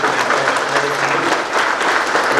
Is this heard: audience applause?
yes